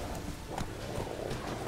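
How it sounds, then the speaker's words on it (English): Horse hooves from The Witcher 3: Wild Hunt clip-clop in a quick, steady rhythm, fairly close and moderately loud against a low ambient bed. "my horse almost ran me over."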